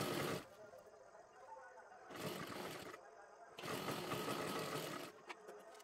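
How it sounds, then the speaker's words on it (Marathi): Sewing machine stitching close along the edge of a dress sleeve, running in two sustained bursts of whirring with quieter pauses between them. "एकदम कडेकडेला शिलाई मारून घ्यायची आहे"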